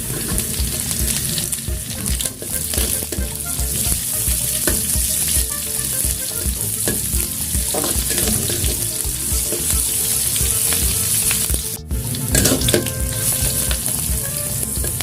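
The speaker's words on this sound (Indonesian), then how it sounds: "Aduk, tunggu sampai bawang merah dan bawang putih layu. Setelah berubah warna, masukkan cabai," Shallots, garlic and chili fry in hot oil with a loud, continuous sizzle close by, broken by scraping stirs of a utensil in the pan, with one brief dip near the end.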